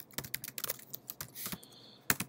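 Typing on a computer keyboard while composing a Gmail message: quick, irregular key clicks in short bursts, close and fairly quiet, with no talking.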